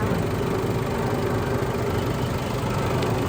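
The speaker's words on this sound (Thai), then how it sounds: "ตอนนี้เราสตาร์ทเครื่องยนต์อยู่นะคะ" A 2014 Isuzu All New D-Max with the 2.5 engine idles steadily, a loud, even rumble that holds without change, with no talking over it.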